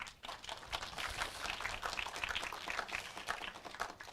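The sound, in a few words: applause at an online JavaScript meetup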